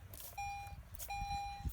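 A metal detector sounds two sustained electronic tones in succession while hunting for silver and copper nuggets, each a steady pure beep lasting about half a second, fairly faint over light background noise.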